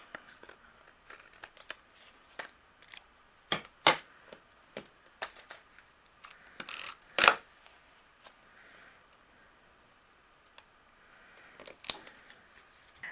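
Scissors trimming patterned paper overhang on a handmade collage card, a series of soft, close snips and crisp cuts at an irregular pace, with quiet gaps between them.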